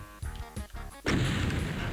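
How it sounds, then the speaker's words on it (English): A revenant's homing missile slams into the player in a ZDoom map, a sudden loud crash that lingers in a noisy rumble after a few short, choppy game sounds. "Oh no, that's a following missile."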